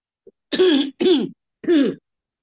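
Three harsh coughs in quick succession, close and loud, following a tiny click, with silence between them.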